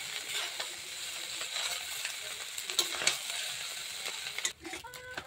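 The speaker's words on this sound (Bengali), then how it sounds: "তো আবারও নেড়ে চেড়ে নেব" Egg chowmein with tomato sauce being stirred in a pan, a steady close sizzle with scraping and clinking strokes of the spatula, ending in a few louder metallic taps.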